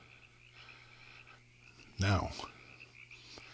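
Frogs croak in an ASMR recording, a faint repeated chorus in the background, with one short spoken word cutting in over it.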